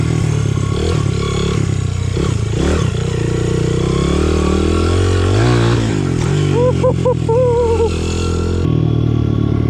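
A Honda CRF 100F dirt bike engine revs hard and loud close by, surging and dropping in throttle bursts as the rider tries to lift a wheelie, with the pitch climbing and wavering near the end.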